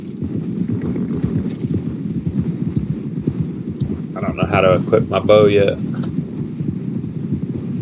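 Horse hooves clip-clop steadily in the video game Red Dead Redemption 2, a continuous close trotting rhythm that runs throughout while someone speaks briefly over it partway through.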